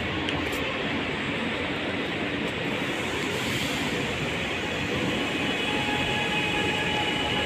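A metro train passing, a dense continuous rumble and rushing roar that stays loud and steady throughout, close by with no talk.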